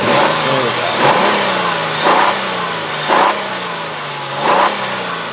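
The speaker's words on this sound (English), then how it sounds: "if I can figure out how to rev it up without getting hurt" A 1999 Mercury Sable LS V6 idles steadily, then revs up in four short, evenly spaced bursts, each rising and settling back to a smooth idle, heard close with no voices.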